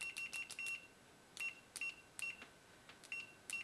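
A Fluke 85 III multimeter's continuity buzzer sounds in quick, clean beeps, some short and some held, in irregular bursts with brief pauses between them, over a quiet background.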